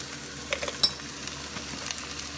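Garlic frying in a pan for pesang isda, an even moderate sizzle with a few short utensil clicks and taps near the start, no speech.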